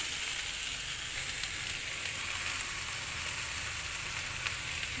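Water lily stems (shapla) fry in a pan with garlic that has already browned, giving a steady, close hiss that continues without a break and with no voices.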